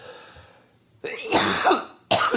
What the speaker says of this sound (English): you'd think I wouldn't be coughing